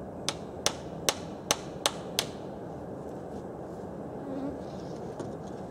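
A hammer drives small nails into thin plywood at an outdoor forest build. Six sharp, evenly spaced knocks land in the first two seconds, then it goes quiet except for faint insect-like background hum and one distant tap.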